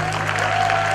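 An audience at a college talent carnival bursts into applause for a performer, a dense, loud burst of clapping carrying over a steady electrical hum.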